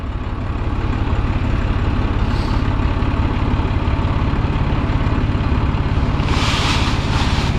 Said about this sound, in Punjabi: ਨੰਦੀ ਸਰਦਾਰ ਬਹਿ ਗਿਆ ਟਰੈਕਟਰ ਤੇ